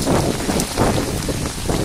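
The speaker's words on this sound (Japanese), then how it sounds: "雨風すごいわ。" Strong wind and rain outdoors on a hillside road near temples, a dense continuous roar of gusts and rain hitting surfaces, loud and close to the microphone.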